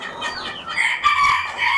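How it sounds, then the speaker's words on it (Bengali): Japanese bantam chickens crowing and clucking close by at a fancy-chicken farm, a couple of short, bright calls overlapping in quick succession. "এগুলা কি মুরগি এটা হলো জাপানিজ ব্যান্থাম"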